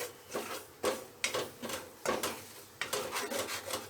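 Bitter gourd stuffing of roasted gram lentils and dry-roasted peanuts is stirred in a pan, giving repeated scraping, rubbing strokes in an uneven rhythm, close and moderately loud with no talking.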